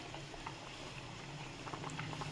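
Quiet, continuous bubbling and popping of water boiling in a pan, soft and close, with no voices.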